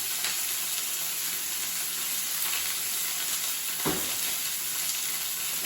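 Steady, crackling sizzle of chicken breast frying in a hot pan during one-pan camp cooking, continuous and fairly loud, with no voices and a faint clink partway through.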